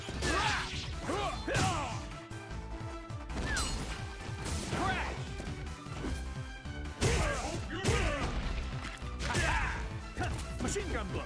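Rapid punch combo hits from a Street Fighter IV fighting game match, a dense run of loud smacking impacts in bursts throughout, layered under game announcer talk and busy background sound.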